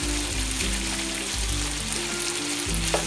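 Steady bubbling and sizzling of pork adobo cooking in a pan, a constant low simmer with no one talking.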